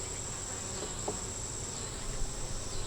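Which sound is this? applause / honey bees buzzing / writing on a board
honey bees buzzing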